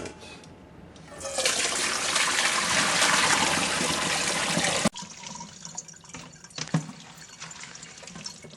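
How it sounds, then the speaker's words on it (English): Pickles are rinsed under running water, a loud steady gush that stops abruptly, followed by quieter drips, splashes and light clattering. "Now we're going to rinse out the pickles again."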